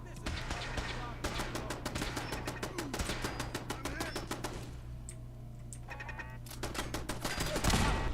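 Rapid bursts of automatic turret gunfire in Fallout 4, loud and sustained, with short pauses between volleys and game sound effects underneath, while a voice talks faintly in the background.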